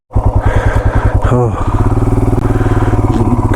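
A large motorcycle engine runs steadily and loudly, close up, with a rapid pulsing throb as the bike skids on black ice on a snowy mountain road without snow chains; someone briefly speaks over it.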